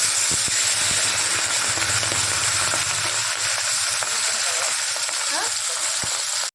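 Salted, turmeric-rubbed sea fish fries in hot oil in a pan with a loud, steady sizzle and crackle that runs unbroken throughout.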